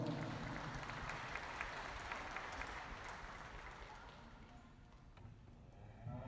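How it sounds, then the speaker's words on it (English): Applause from the audience at a youth beef cattle pageant, steady crowd clapping that is fairly faint and gradually fades over several seconds in a large, reverberant show arena. "Give them a nice round of applause."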